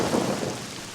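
A rain and thunder sound effect in a radio ad, a brief burst of dense rainfall with a low rumble of thunder and no voices.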